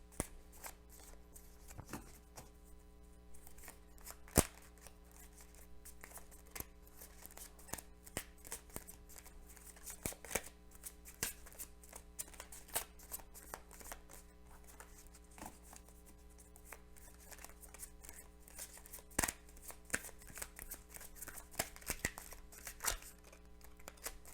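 Tarot cards are shuffled and laid out on a table during a reading, giving quiet, steady papery riffles and soft slaps that come in irregular bursts over a low hum, with no speech.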